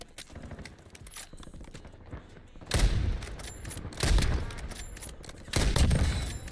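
Video game gunfire in a tactical shooter: three loud, close bursts of rapid shots, each lasting about a second, over a dense, rumbling background of combat noise.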